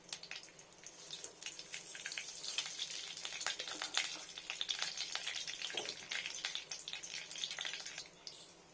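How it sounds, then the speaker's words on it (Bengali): Mustard seeds tempering in hot oil for a vegetarian tomato, pointed gourd and potato posto, giving a steady close sizzle with dense rapid crackles and pops throughout, no voices. "একটু সর্ষে ফোড়ন"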